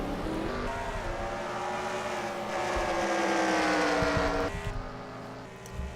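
Stock cars race in a video game, a steady drone of engines rising and falling in pitch as cars pass, with no talk over it.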